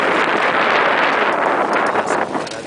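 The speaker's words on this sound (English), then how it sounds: "The wind is blowing about probably 15 knots." Strong wind of about 15 knots roars steadily across the microphone aboard a Sanibel 18 sailboat out in the Gulf of Mexico near Caladesi Island, a loud, continuous rush with no talking.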